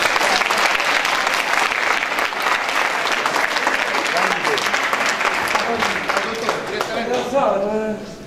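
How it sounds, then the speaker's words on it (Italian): Audience applause at a school conference in Italy, steady dense clapping from a crowd that fills the room, with voices starting to talk over it near the end as it fades. "C'è un applauso a Michele, via."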